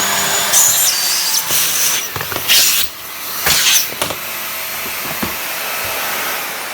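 Miele S5281 vacuum cleaner running on full power, a loud close steady whine and rush of airflow with bursts of hissing and rattling as the nozzle moves, settling to a constant drone.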